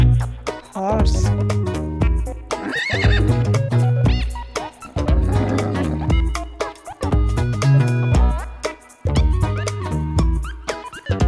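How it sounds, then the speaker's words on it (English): A horse neighs in a playground setting, its whinny mixed into steady background music that runs the whole stretch. "Horse."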